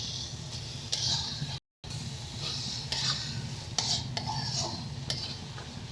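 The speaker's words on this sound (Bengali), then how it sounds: "টমেটোটা যতক্ষণ নরম হবে ততক্ষণ এটাকে একটু কষিয়ে নিচ্ছি" Chopped tomatoes being sautéed with spice masala in a pan for a chicken curry, a steady close sizzle with a spoon repeatedly stirring and scraping against the pan, no talking.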